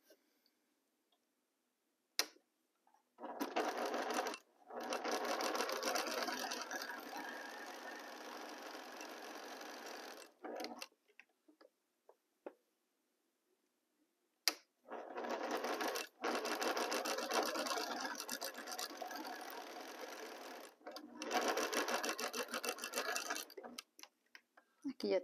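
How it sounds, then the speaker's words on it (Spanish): A sewing machine stitches fabric squares together in two long, steady runs of rapid mechanical chatter, broken by a quiet pause with a few clicks as the fabric is repositioned. "y empiezo a coser."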